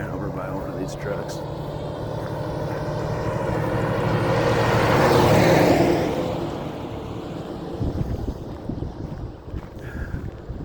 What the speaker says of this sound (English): There's like tons of trucks coming down this road.